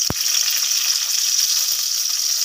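Onion and garlic fry in a little oil, a steady bright hiss and crackle of sizzling close to the pan, opening with a brief knock, continuous and alone without voices.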